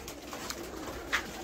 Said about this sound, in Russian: вот эти голоногие, это голуби дяди Аршака.